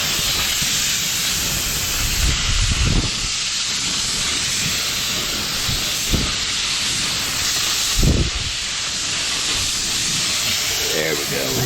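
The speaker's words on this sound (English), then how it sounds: "Just kind of putting the primer on right now." Aerosol primer sprayed onto a golf cart body being painted two-tone, a steady close hiss running throughout with a few brief low thumps and handling bumps breaking through.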